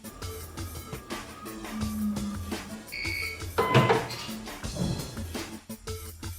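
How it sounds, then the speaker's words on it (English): Short electronic end-of-run alarm beeps sound from an ELMI CM-8S centrifuge after the rotor stops, amid background noise and clatter, a couple of tones mid-clip. "Once the rotor stops, you will hear the sound alarm,"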